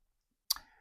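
A single crisp mouse click, close and brief, in near silence.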